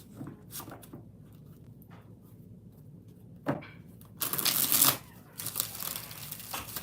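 Tarot cards being shuffled by hand close up, with a few soft riffling and rustling bursts, the loudest near the end, over a quiet background with no talking.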